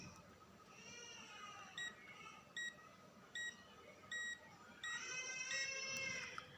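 A multimeter's buzzer in continuity test mode, checking an SM4186 LED panel, gives five short, evenly spaced beeps followed by one longer continuous tone, heard close against a low background hum.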